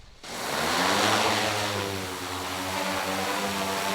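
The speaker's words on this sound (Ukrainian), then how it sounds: "далі на місію вилітає вже інший дрон з магнітометром" A demining drone carrying a magnetometer lifts off and flies with a steady, loud propeller buzz. It swells up at the start and then holds an even drone to the end.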